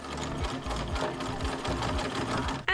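A home sewing machine stitches a corset in a steady, rapid mechanical rattle of needle strokes, running continuously and loud at close range until a brief click at the end.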